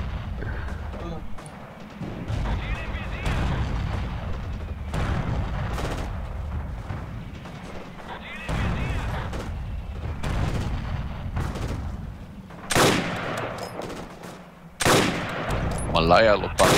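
Repeated gunfire and heavy booms ring out in Forgotten Hope 2, a WWII battlefield at Motovskiy Bay, with shots recurring in bursts over a constant low rumble of combat noise and a louder crack near the end.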